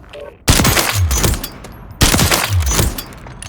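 Gunfire from Call of Duty Warzone comes in two loud, sustained automatic bursts, each roughly a second and a half long, starting abruptly and separated by a short pause, close and dominant with no talking.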